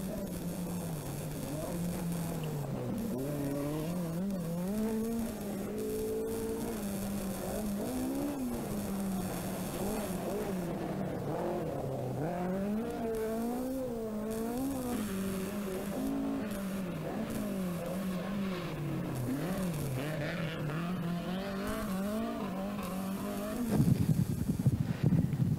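Rally car at the 1983 Fota Island Rallysprint, its engine droning and rising and falling steadily through gear changes along the stage, loud and continuous with a harsher burst near the end.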